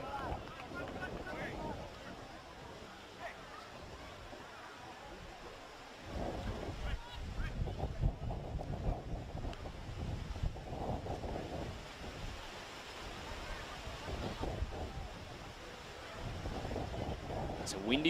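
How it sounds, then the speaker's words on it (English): Wind buffets a pitchside effects microphone at a Queensland FFA Cup soccer match on the Peninsula, a low rumbling roar that swells and fades in gusts beneath a commentator's talk. "You can hear it through the effects mic. The wind really picking up."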